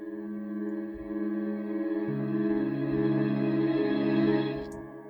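Synth chord run through a pitch shifter, amp and cabinet chain, a thick sustained distorted chord that shifts to a new voicing midway, with faint low pulses underneath, ending in a short bright click.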